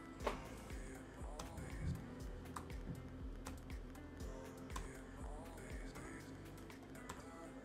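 Keys clatter as someone types a code on a computer keyboard, a quiet, close, irregular run of clicks and taps that continues throughout with no speech.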